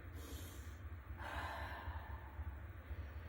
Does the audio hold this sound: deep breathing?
yes